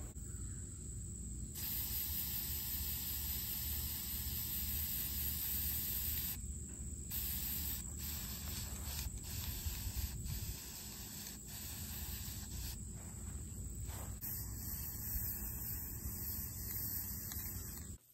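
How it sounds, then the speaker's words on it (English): Bursts of spray paint hiss on and off, long steady sprays broken by short pauses and quick puffs, close and fairly loud. "Now, I've got it spray painted."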